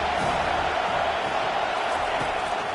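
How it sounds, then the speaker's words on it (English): A football stadium crowd roars behind the defense on third down, a dense, steady wall of noise that stays loud and continuous throughout. "Decibels rising as the crowd gets behind this defense on 3rd down."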